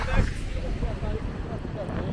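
Strong wind roars across the microphone along the Leblon to Ipanema beachfront boardwalk near posto 9, a dense, steady low rumble with a brief louder gust at the start.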